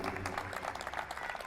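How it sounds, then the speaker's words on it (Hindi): Audience applause at a live ghazal evening honouring Jagjit Singh, a dense, even wash of clapping held at moderate distance throughout, with faint voices mixed in. "एक बार जोरदार तालियां"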